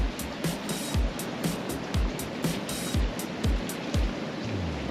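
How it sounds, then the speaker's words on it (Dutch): Wind and sea waves heard from the pool deck of the cruise ship Celebrity Silhouette, a steady broad rushing wash with repeated low thumping pulses, continuous and fairly close, no talk. "Het is ondertussen behoorlijk gaan waaien en er staan al flink wat golven."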